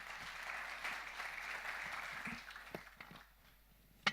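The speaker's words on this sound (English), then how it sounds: "can we have a round of applause for the speakers?" Audience applause at the close of a panel session on strategic financing and economic diplomacy, steady clapping for the speakers that thins out toward the end, ending with one sharp clap.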